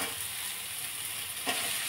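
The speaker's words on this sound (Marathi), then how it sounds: "छान असं हे मिक्स करून परतून घ्यायचे" Soaked poha gets stir-fried with onions in a pan over a low flame, making a steady soft sizzle with one brief scrape of a spoon mixing near the end.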